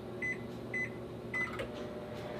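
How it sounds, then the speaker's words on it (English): An LG microwave oven runs with a steady low hum, while three short electronic beeps sound in quick succession near the start, followed by a faint click. "the microwave works, so I can open and close it"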